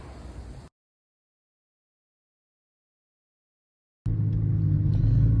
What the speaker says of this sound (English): this is a video showing how much road noise this wheel bearing gives because it came defective